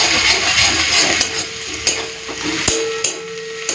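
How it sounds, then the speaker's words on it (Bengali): Onion, garlic and green chilli frying in a pan, a close, continuous sizzle with occasional stirring scrapes and a sharp knock of a utensil against the pan. "পেঁয়াজ রসুন কাঁচা লঙ্কা খুব ভালো করে ভেজে নিয়েছি"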